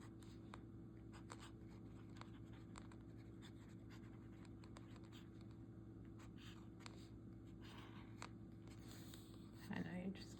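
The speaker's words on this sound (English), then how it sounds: "this is Apica, so I'm gonna just write underneath that" Fountain pen nib scratching across Apica paper in quick, faint strokes and scribbles, soft and close over a low steady hum, with a rustle near the end.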